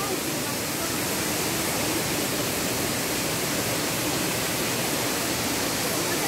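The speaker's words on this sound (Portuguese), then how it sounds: "Cachoeira do Cipó. Com esse barulhinho das águas." Steady, full roar of falling water at Cachoeira do Cipó, a waterfall in Guaramiranga, Ceará, continuous and unbroken throughout with no distinct events, heard close and fairly loud.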